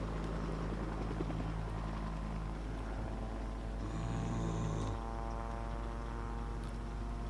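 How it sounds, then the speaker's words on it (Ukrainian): Helicopter in the video game Project Zomboid, a steady throbbing rotor drone at moderate distance that holds for several seconds with a brief louder swell midway. "О, вертольот."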